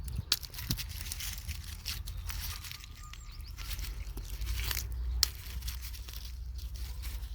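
Garlic heads being split into cloves by hand for planting, a run of close, dry papery crackles and crunches with a few sharper snaps, steady and moderately loud without talk.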